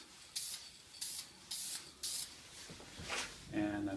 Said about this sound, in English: I give a very light coat. I actually just give it a little mist,